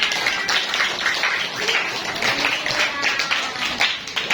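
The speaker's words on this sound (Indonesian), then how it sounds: "Bagus sekali, tepuk tangan." Students in a classroom clap for a classmate's answer, a continuous burst of many hands applauding together at close range that stays fairly even throughout.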